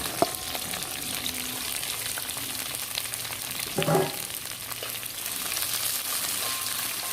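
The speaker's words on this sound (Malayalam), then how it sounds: "ഉള്ളിയും തക്കാളിയും കൂടി വഴറ്റിയെടുക്കുകയാണ്." Onion and tomato sautéing in a pan with curry leaves as a base for sambar: a continuous, moderate sizzle with a brief clatter of stirring partway through.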